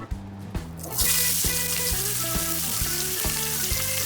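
Steak searing in peanut oil in a hot cast iron pan gives a steady, loud, broad sizzling hiss that starts after about a second and runs on, with rhythmic background music underneath.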